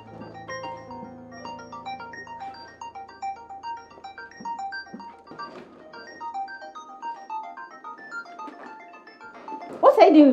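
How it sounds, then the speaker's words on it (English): A mobile phone ringtone plays a repeating electronic melody of short bright notes through a scene in a Nigerian movie, moderately loud, with a voice briefly heard near the end. "Your phone is ringing."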